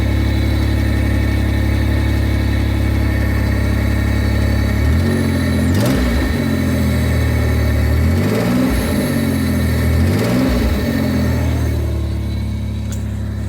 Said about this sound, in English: Let me give it a little bit of gas and we'll see on what that sounds like.